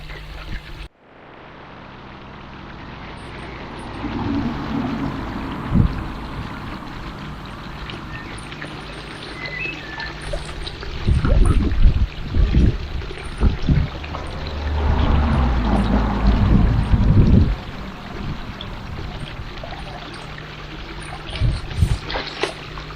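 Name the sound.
koi fish poured from bag into pond water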